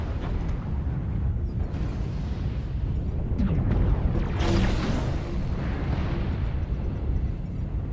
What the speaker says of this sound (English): Airstrike activated.